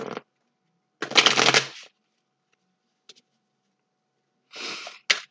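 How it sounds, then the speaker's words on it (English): Oracle cards are shuffled close up in short bursts: a long riffling swish, a tiny tap, then two more quick riffles, with silence in between. "Just shuffling."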